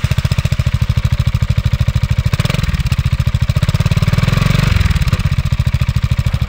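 A Piaggio MP3 500 Sport Advanced scooter engine putters at idle with a pulsing exhaust, baffles fitted, revs up briefly in the middle, then drops back to idle.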